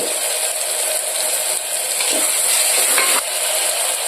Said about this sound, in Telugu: ఈ అల్లము పచ్చి వాసన పోయేంత వరకు ఫ్రై చేసుకోవాలి.